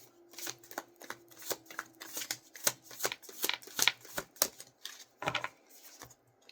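Starseed Oracle cards being shuffled by hand in quick, crisp riffling bursts at close range, with short pauses between runs.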